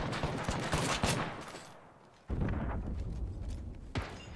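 Gunfire in the video game Apex Legends, with dense rapid bursts of automatic shots and sharp cracks, a brief lull, then another volley of shots close and loud.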